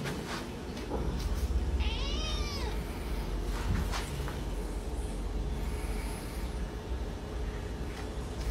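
An angry pet cat meows with a rising and falling cry, then a few shorter calls, over a steady low background rumble.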